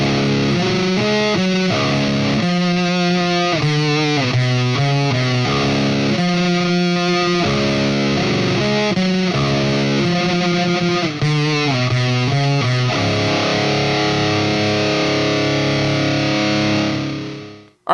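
A heavily distorted electric guitar plays a loud lead riff through the lead channel of an EVH 5150 III tube amp, with chugging chords and a final ringing chord that fades out.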